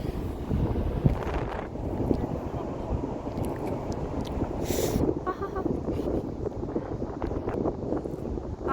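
Strong mountain wind at Jabal Akhdar, Oman buffets the microphone in a continuous loud rumble, with gusts swelling and easing throughout.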